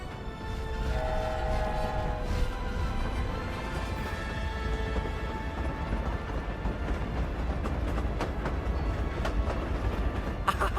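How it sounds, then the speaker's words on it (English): Train rumbling along in Hogwarts Legacy, a steady continuous roll with rhythmic clattering and a low mechanical drone running throughout, fairly close and loud. "Stop the train! It's a robbery."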